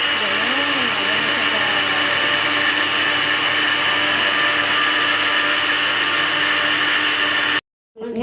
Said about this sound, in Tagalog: Ayun, tapos na mag-blender.